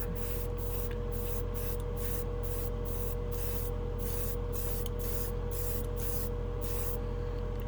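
An airbrush blows bursts of air with no acrylic hobby paint coming out, giving a rapid series of short, loud hissing puffs in an even rhythm over a constant compressor hum.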